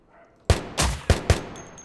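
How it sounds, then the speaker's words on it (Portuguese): Four loud, close gunshots ring out from a firearm in the Minecraft Crafting Dead mod, coming in an uneven quick sequence over a quiet background, each with a sharp crack and short decay. "Ele tá ali, eu só tô dando tiro."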